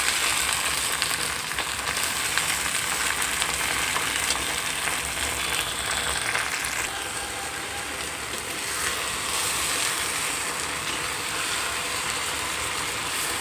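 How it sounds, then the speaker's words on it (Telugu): Gongura leaves frying in heated oil in a pan for Andhra gongura pickle, a steady loud sizzle and crackle running continuously with faint scraping, no talk. "బాగా వేయించుకోవాలి గోంగూర అంతా, ఒక ముద్దలాగా బాగా వేయించుకోవాలండి"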